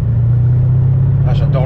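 Mercedes C63 AMG engine rumbling loud and close with a steady deep drone, then rising in a brief rev near the end.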